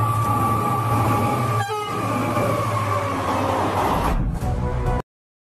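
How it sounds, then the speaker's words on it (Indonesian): A train passes with a loud, sustained horn blast heard near a railway crossing, under steady rolling rumble from the rail cars before it cuts off abruptly. "kereta diharuskan membunyikan klakson yang 4 kali sekitar 20 detik sebelum mencapai persimpangan"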